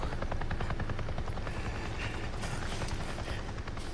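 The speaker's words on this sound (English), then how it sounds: "I just saw a goddamn chopper!" A helicopter in the video game Days Gone thrums with a steady rapid rotor chop, loud and continuous throughout with no talking over it.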